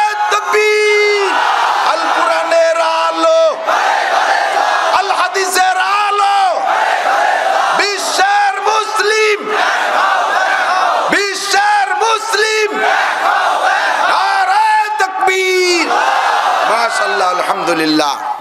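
Crowd at an outdoor Islamic sermon (waz) in Bangladesh loudly shouting the takbir response in unison, a sustained roaring chant of many voices filling the whole stretch with repeated surges.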